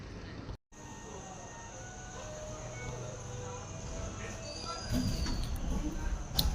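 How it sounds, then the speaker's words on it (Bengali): A twelve-coach local train pulls out of Shantipur Junction on a winter night, a low creaking rumble from inside the coach that builds louder near the end, with a brief voice in the background. "আমাদের ট্রেন একদম নির্দিষ্ট সময়ে শান্তিপুর জংশন স্টেশন থেকে ছেড়ে দিল"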